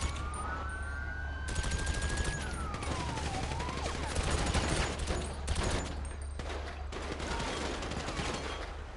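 Gunfire in GTA V Online during a cops-and-robbers session, heavy bursts of automatic shots crackling over a wailing police siren and a low engine rumble.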